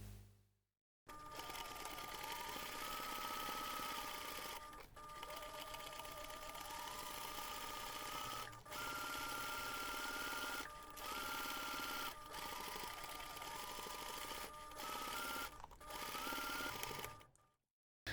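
Sewing machine basting the bottom panel of a fabric laptop bag, a long steady mechanical whir with rapid needle clatter, close and loud, broken by a few brief pauses, no speech.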